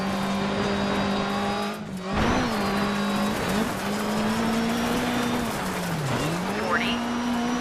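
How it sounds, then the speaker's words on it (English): Rally race car in Dirt 3 driven hard, its engine droning and rising and falling in pitch through gear changes, with a brief tire skid, loud and continuous, a voice speaking over it. "There are distinct sounds for each vehicle."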